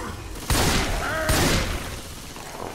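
Gunfire in a competitive Left 4 Dead 2 match on the Hard Rain campaign: two loud, sharp blasts about a second apart, each trailing into a rumbling tail over background game noise, with no talking.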